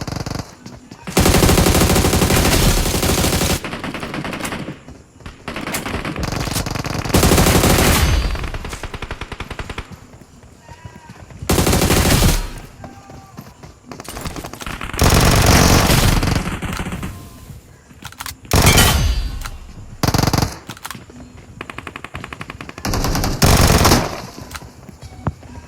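Video game gunfire in rapid bursts of automatic weapons, loud and dense. Long sustained volleys alternate with shorter clusters of shots and brief pauses, with a faint voice in the gaps.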